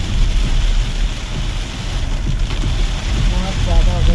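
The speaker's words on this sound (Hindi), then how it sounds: "बहुत ज़्यादा हो गई भाई बारिश, एकदम से ही बढ़ गई" Heavy rain pours steadily in a close, dense hiss with strong low rumble and wind-buffeted roar, constant and loud throughout, with faint voices briefly underneath near the end.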